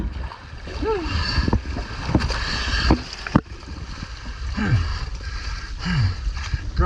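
Someone clambers into a small boat on the water, with knocks, thumps and splashes against the hull, wind noise and people talking in the background.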